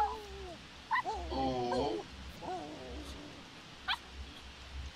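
Puppies in The Sims 4 whimper and yip in short, close, fairly quiet bursts, with a brief high yelp near the end, all over a soft background hum.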